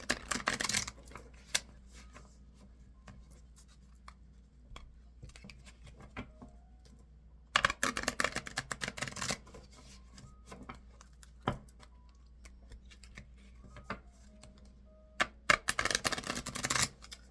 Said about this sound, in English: Some of you like to hear the shuffling.